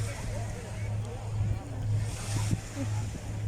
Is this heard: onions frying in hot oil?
no